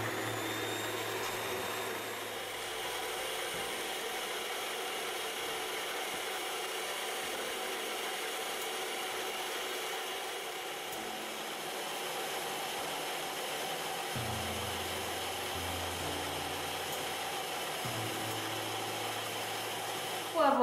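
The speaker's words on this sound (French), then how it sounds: "battez le tout à l'aide de votre batteur électrique pour 7 minutes" An electric hand mixer beats red velvet cake batter in a steady, continuous whir, with a mechanical rattle and slight changes in tone as the beaters move through the bowl. The sound runs close and unbroken without any talk.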